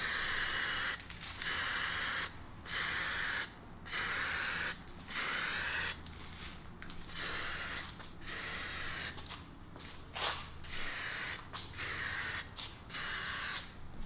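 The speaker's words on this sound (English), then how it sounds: "you're going to slow down your spraying just a little bit so that every pass is laying down just" An aerosol spray can hisses in repeated short bursts while paint goes onto a wheel face and barrel, each pass a steady hiss followed by a brief pause, close and fairly quiet.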